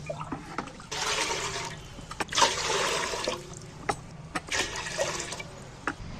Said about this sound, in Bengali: এবার আমি বেশকি বসিয়ে জল দিয়ে দিচ্ছি